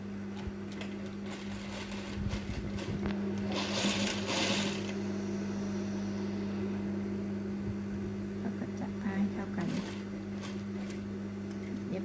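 A sewing machine stitching a fabric mask, a steady mechanical whir close by with a louder burst of rapid stitching early on and brief clicks later, under a constant hum with no speech.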